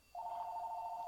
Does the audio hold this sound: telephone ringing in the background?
yes